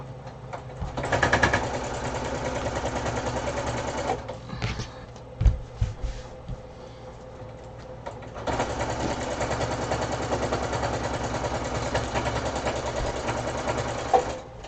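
Stipple quilting on a grocery tote bag, done on a sewing machine, comes through as two long runs of steady, fast stitching with a quieter gap between them where there are soft handling knocks.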